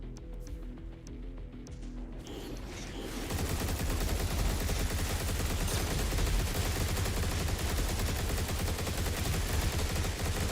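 Gunfire from a gun in the fast-paced shooter Turbo Overkill, starting as scattered shots and then swelling into a loud, unbroken roar of rapid fire that fills the rest of the stretch.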